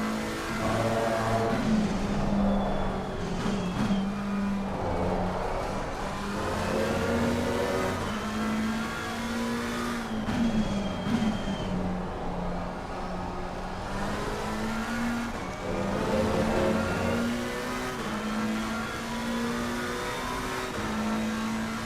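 A race car engine in a racing video game revs continuously, its pitch climbing and dropping through repeated gear shifts over about twenty seconds, loud and up front with no speech.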